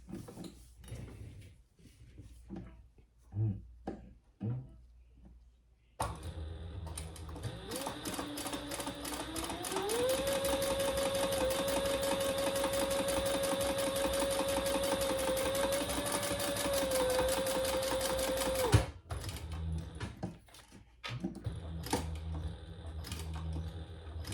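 A Bernina sewing machine stitches along the sides of a fabric wallet, running as a fast, steady mechanical chatter for about thirteen seconds, with quieter handling and clicks before and after.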